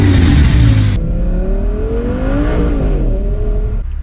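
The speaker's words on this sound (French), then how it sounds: "elle a un V10 et un V10 atmosphérique, c'est-à-dire un moteur qui fait un très très beau bruit" A naturally aspirated V10 supercar engine revs loud and close, a dense roaring note that holds strong and then eases slightly, with no voices over it.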